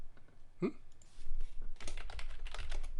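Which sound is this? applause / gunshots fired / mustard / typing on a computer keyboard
typing on a computer keyboard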